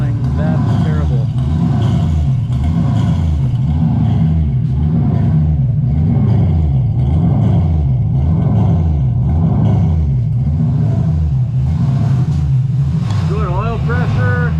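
A 1992 Nissan 240SX S13 with a swapped LS V8 and no camshaft runs loud, rough and lumpy, its uneven chugging pulsing steadily throughout at close range with no pauses.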